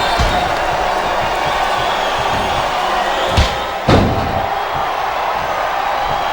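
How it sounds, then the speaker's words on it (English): Arena crowd in the wrestling video game WWE SmackDown vs Raw 2008 during a Shawn Michaels vs Bret Hart match, a loud, steady roar of many voices broken by two sharp slams. "Wow, listen to that chant."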